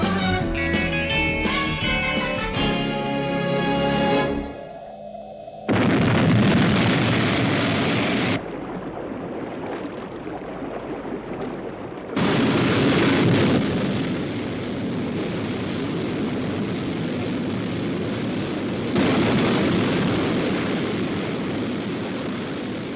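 Sky 1 interceptor aircraft lifting off in a science-fiction series, a loud roaring engine blast that cuts in and out in several surges, broad and rumbling, heard alone without talk.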